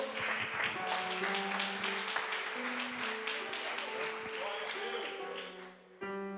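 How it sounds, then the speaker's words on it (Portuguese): Church congregation applauds to welcome a preacher at a worship service, a continuous rustle of many hands clapping along under music and voices. "receba o apóstolo com as palmas que louvam o nome do Senhor"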